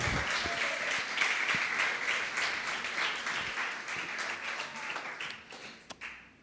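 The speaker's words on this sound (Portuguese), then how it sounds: "Você pode aplaudir o Senhor?" A church congregation applauds with dense, sustained clapping that thins out toward the end, ending in a few scattered claps.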